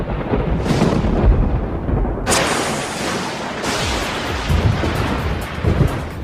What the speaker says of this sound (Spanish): Todos hemos visto rayos durante una tormenta eléctrica